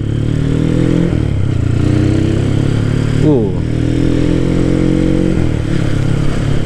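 Steady Honda Tiger motorcycle engine drone while riding on a small road, with wind rush and a brief shift in pitch midway; a voice murmurs briefly.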